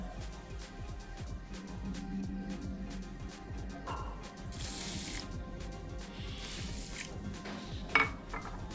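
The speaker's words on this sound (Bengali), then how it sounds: "চালটা একটু ধুয়ে নিয়েছি" Rice being washed in water in a home kitchen, with running tap water and sloshing, clinking of a pot or bowl, steady and close throughout, no talking.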